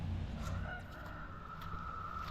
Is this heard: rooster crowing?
yes